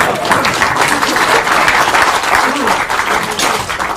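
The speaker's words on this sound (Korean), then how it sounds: "김기현 원내대표님께 다시 큰 박수." A crowd at a Korean political party gathering applauds Kim Gi-hyeon loudly and steadily, a dense wash of clapping that holds throughout, with a voice speaking briefly underneath.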